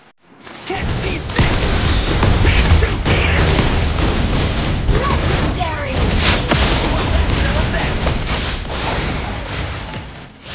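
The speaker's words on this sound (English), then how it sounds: "Your team destroyed a turret!" Booming explosions and heavy thuds from a Mobile Legends match as a turret is destroyed, dense and continuous game effects layered over an announcer voice and background music for about ten seconds.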